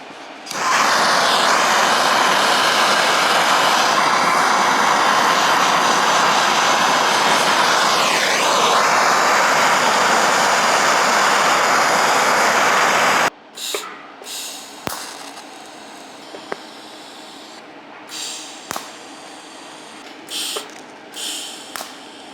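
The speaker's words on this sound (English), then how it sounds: "Now I'm going to weld across there and put these two together." Two steel pieces of a jig are welded together with a loud, close, steady crackling hiss lasting about thirteen seconds. It cuts off abruptly and is followed by scattered clicks and handling noises in near silence.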